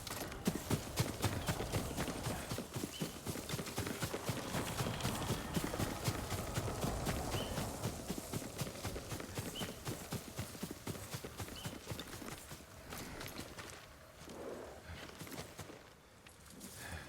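Horse hooves clip-clop steadily on the ground in the feudal Japan game Ghost of Tsushima, a continuous close walking rhythm that eases off slightly toward the end, with no talk over it.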